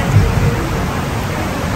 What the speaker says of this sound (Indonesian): Aduh, hujan soalnya.